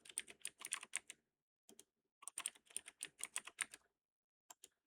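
Fingers tapping out a password on a computer keyboard, a close, crisp series of quick keystroke clicks in short bursts separated by pauses, then a couple of final isolated taps.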